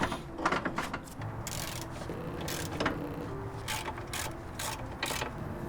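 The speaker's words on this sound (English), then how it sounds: "Use torque wrench." Ratcheting torque wrench tightening wheel lug nuts on a Toyota AE86, giving repeated close clicking bursts in an irregular rhythm over a steady garage background hum.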